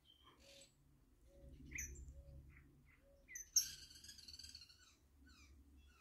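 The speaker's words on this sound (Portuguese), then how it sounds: "olha quem vem comer a comidinha dos cachorros, ó. O canarinho, que lindo." A canary visits dogs' food at a rural smallholding, giving several short chirps and one brighter burst of song, fairly faint over a low background hum.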